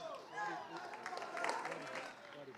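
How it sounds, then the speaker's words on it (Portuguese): A church congregation rises to applaud during an evening service, scattered clapping mixing with crowd noise and voices talking over it at close range. "Vamos aplaudir de pé."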